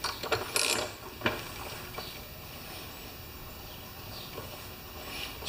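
Ratchet working a spark plug out of a Lawn Boy mower engine with stripped plug threads, giving a few close, faint mechanical clicks and scrapes early on, then a quiet, steady background.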